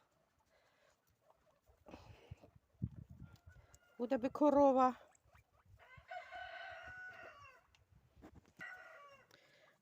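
Chickens cluck and squawk nearby, with a loud burst of agitated calls in the middle and quieter clucking afterward while someone speaks.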